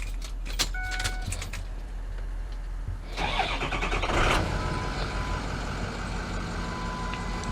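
A pickup truck engine cranks and catches partway through, then settles into a steady idle, loud and close, with faint clinks before the start and no talking.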